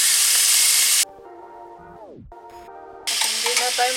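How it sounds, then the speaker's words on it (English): Meat frying in hot oil gives a loud, steady sizzle that drops away for a couple of seconds, then surges back at full strength. "So, first we have to put our oil. And then let's fry our meat."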